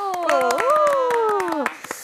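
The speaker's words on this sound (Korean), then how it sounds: "먼저 박수" In a television studio, a small group claps in quick, brisk bursts for a guest, the sharp hand claps sounding over a sustained, sliding voice that runs through most of the moment before a few final claps.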